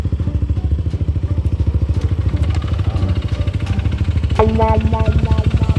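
An Aerox V2 scooter engine runs with a rapid, chugging idle close by, with a few clatters and thumps, and a voice briefly speaks over it near the end.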